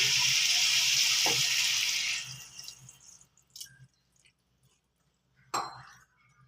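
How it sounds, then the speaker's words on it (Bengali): About half a cup of water poured onto vegetables frying in oil for a mourala fish chachchari bursts into a loud hissing sizzle that dies away after two seconds, followed by a few quiet clinks. "এবার আমি সবজি সিদ্ধ হওয়ার জন্য অল্প জল দিচ্ছি"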